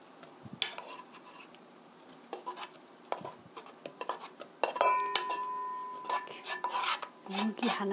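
Boiled potatoes tip into a bowl and are handled with a utensil, giving scattered scrapes, taps and clinks of metal against the bowl, close up and fairly quiet, with a louder clattering stretch near the end.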